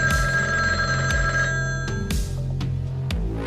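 A telephone in a radio drama rings loudly in repeated bursts, a bright metallic bell trill that restarts roughly every second over a dense, steady broadcast background, with no talking.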